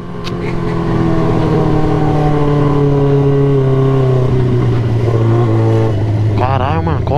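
Motorcycle with a loud aftermarket exhaust running close by, its engine droning and revving with a rising pitch, loud and sustained, ending with a brief burst of chatter.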